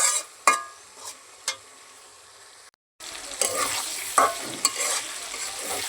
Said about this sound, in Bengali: ওর জন্য আমি মুরগিটা ভাজা নিচ্ছি। এখন ভালো করে কষাই নিতেছি।